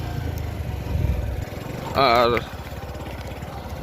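A motorcycle engine putters at a river ferry crossing, a steady near idle with a short louder rev in the middle, while someone speaks briefly over it.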